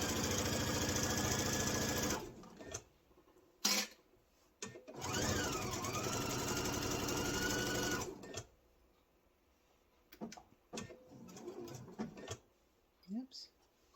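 A sewing machine stitches two layers of apron fabric in long steady runs, pausing between bursts as the cloth is straightened, with brief handling clicks and faint talk in the gaps.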